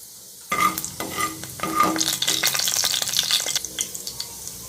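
Mustard seeds, urad dal and fennel dropped into hot oil, a sudden burst of sizzling and crackling with a few metal spoon clinks, rising into dense popping spatter, close and loud.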